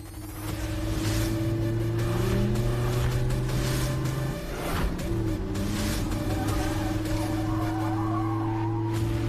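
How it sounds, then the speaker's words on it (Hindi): Big cars roll in with a loud, continuous engine drone and long tire squeals as they skid to a stop, filling the scene without pause. "सो आ गई गाड़ियाँ। इतनी बड़ी बड़ी गाड़ियाँ"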